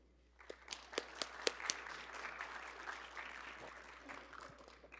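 An audience claps to welcome panelists at a forum on Latino voting rights, starting with a few sharp separate claps and then building into steady, moderately loud applause that tapers off near the end.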